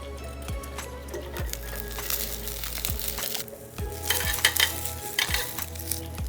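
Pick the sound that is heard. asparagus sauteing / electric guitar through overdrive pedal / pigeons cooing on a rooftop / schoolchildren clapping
asparagus sauteing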